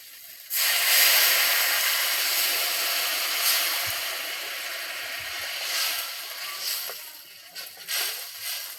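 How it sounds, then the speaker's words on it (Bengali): Water is poured into fried spice masala in a hot pan for a tilapia fish curry, setting off a sudden loud hiss of steam that settles into a sustained sizzle with small crackles. "মশলাটা কষানো হয়ে গেছে, জলটা দিয়ে দিতে।"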